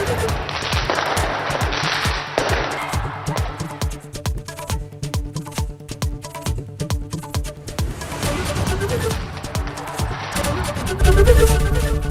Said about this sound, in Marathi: ऑकलंड शहरामधल्या स्काय टॉवरवरती फटाक्यांची आतिषबाजी